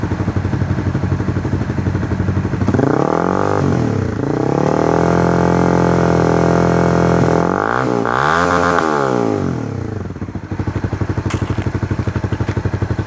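Honda CBR300R motorcycle fitted with a GP can exhaust, held revving at around 5,000 rpm, a loud, steady close-up engine drone with two brief throttle dips before settling back to a lower idle burble.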